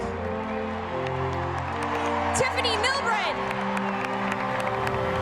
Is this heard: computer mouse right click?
no